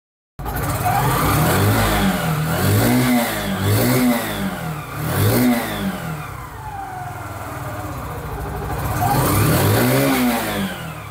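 Italika Libero 125 motorcycle engine running after a carburetor adjustment, close and loud, with a series of throttle blips rising and falling, then settling to a steady low idle before one more rev near the end.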